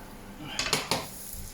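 Metal pans of roasting asparagus are handled at an oven, giving a quick cluster of three or four close, bright clanks and clinks against a quiet background.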